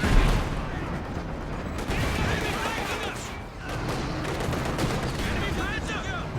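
Heavy gunfire and blasts of war fill a Company of Heroes 2 battle around a Soviet KV-2 tank, with a dense mix of shots and mechanical clatter at a steady level.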